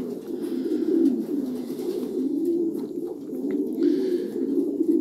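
Pigeons in a breeding loft coo in low, throaty, rolling calls that overlap almost continuously. The cooing sounds close and fairly loud, with no voices over it.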